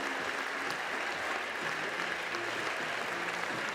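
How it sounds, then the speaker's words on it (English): Crowd cheering and applauding at a women's bouldering final in Meiringen, a dense, steady wash of clapping and cheers that holds at a constant level throughout. "the crowd celebrate wildly"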